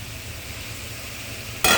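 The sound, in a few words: stirring cauliflower curry frying in pan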